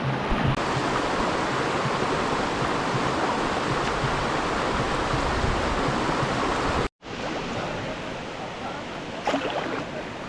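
Steady rushing of a clean stream at a village bathing spot in the hill country near Walapane, Sri Lanka, a continuous broadband flow heard close up with a brief dropout near the end.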